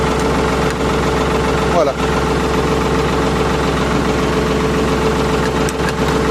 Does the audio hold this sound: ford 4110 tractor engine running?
yes